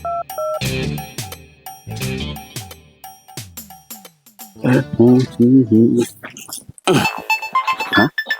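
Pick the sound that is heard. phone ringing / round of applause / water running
phone ringing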